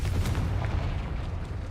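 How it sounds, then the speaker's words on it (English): Confringo blast spell in Hogwarts Legacy, a deep low rumbling boom that rolls on steadily for under two seconds, heavy in the bass with a soft crackling tail. "Confringo"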